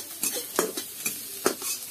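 Egg gravy in a pan on a stove is stirred in quick, regular scraping strokes over a light sizzle, about four strokes in two seconds, close up, with no talking.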